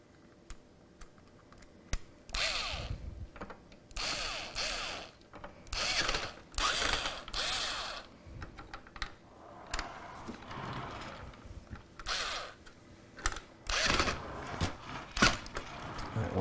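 Screws being driven into a computer case bracket during a PC build, heard as a series of short, close ratcheting and whirring bursts separated by pauses, fairly quiet with no talking.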